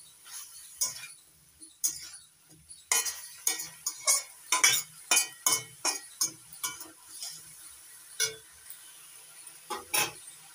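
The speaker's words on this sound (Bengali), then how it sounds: "নাড়াচাড়া করে মিশিয়ে দিচ্ছি ভালো করে।" A utensil stirs fried carrot and spring onion greens in a pan for a broccoli dish, making a quick run of close scraping clinks and knocks over a faint sizzle, with no talk.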